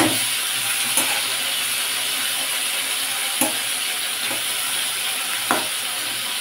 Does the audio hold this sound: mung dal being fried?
yes